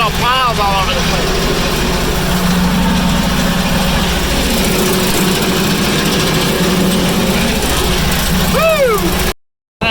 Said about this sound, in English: We're gonna go over and do a little bit more mowing on this driveway.